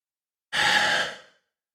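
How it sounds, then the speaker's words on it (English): A single deep breath, a long inhale-exhale sigh lasting under a second, close and clear, then silence. "take a nice big deep breath"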